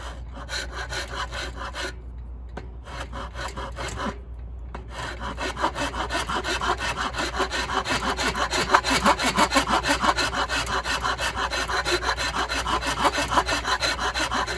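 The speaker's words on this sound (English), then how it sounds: "I'll start off with the rasp because it allows me to remove a lot of material rather quickly" Steady back-and-forth rasping of a rasp on the wooden body of an electric guitar being built, rhythmic strokes that grow a little louder and denser, with a couple of brief pauses early on.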